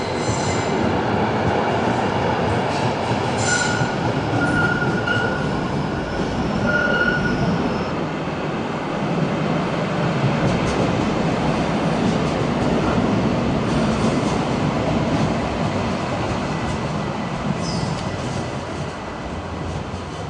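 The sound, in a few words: old heritage tram passing in Essen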